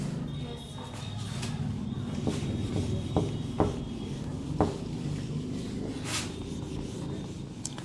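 Writing on a classroom board is rubbed out with steady, continuous scraping and swishing, broken by a few sharper knocks, over a faint room hum.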